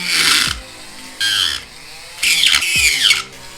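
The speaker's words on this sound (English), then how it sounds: "Now I'm just gonna widen it out" A Dremel rotary tool widens a freshly drilled hole, whining loudly in three separate bursts: a short grind, a brief one, then a longer, wavering run as the bit loads up and slows, with quiet gaps between.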